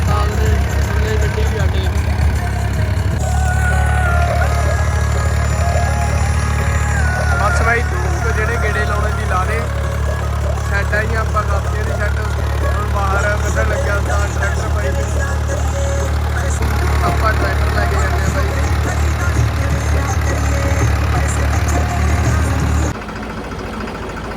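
Steady low rumble of a tractor engine running at a constant pace for a long stretch, with music and speech over it until it cuts off near the end.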